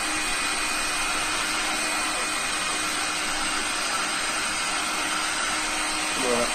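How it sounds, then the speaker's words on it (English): Heat gun blowing on heat-shrink tubing over a hi-fi mains cable, a continuous loud fan-driven hiss and rush that stays even throughout, with a small bump near the end. "we're coming to the end of shrinking the heat shrink on"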